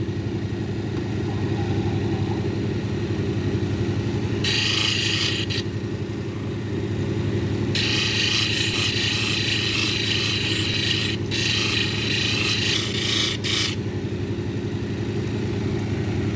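An onyx cabochon is ground on a 600 grit lapidary disc: a steady motor hum runs throughout, broken by several gritty scraping bursts as the stone meets the disc.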